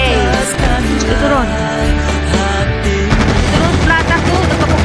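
Rapid gunfire from the video game Call of Duty, dense bursts mixed into loud, layered game music and effects that continue throughout without a break.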